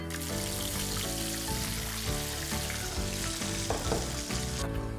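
McCain fries coated with garlic and corn flour are tossed in a hot pan, producing a continuous sizzling crackle that runs steadily beneath background music.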